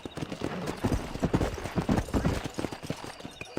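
Steady, fairly loud clip-clop of horse hooves from a ridden horse in the Red Dead Redemption video game, keeping a brisk, even gait throughout.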